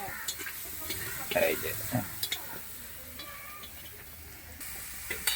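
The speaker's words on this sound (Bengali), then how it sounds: "এদিকে চলছে আলু ভাজা" Potatoes crackle and sizzle in oil in a pan over an outdoor wood-fired stove in a village, with scraping stirs and clinks, heard beneath nearby casual speech.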